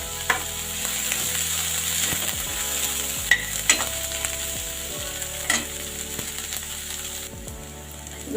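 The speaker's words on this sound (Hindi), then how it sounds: "प्याज ब्राउन हो जाए दोस्तों, उसको भूनते हैं, उसकी हरी मिर्च भी इसमें डाल देते हैं।" Onions and green chilies fry in a pan for a pointed gourd and potato curry, giving a steady, close sizzle broken by occasional sharp clicks and scrapes of stirring.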